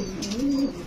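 One brief, low coo from a fancy pigeon, close and steady, set against a faint hiss of background noise.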